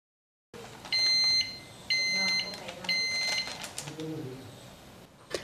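An electric pressure cooker finishes cooking chhole masala and sounds three loud, evenly spaced electronic beeps about a second apart, followed by quieter kitchen clatter.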